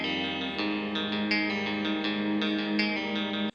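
Sustained synthesized tones washed in heavy Chromaverb reverb, with a shimmering, spacious tail that blurs each note into the next until it abruptly stops.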